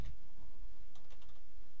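Fingers typing on a computer keyboard at a command prompt, a short run of close, crisp key clicks with a brief pause between bursts.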